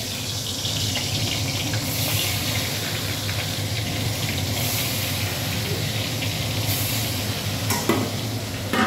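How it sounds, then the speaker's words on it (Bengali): Fish frying in a pan gives off a steady, close hiss and sizzle with a few stirring scrapes, joined by a brief clatter near the end. "আর এখানে দেখো মাছ ভাজাটা দিয়ে দিচ্ছি"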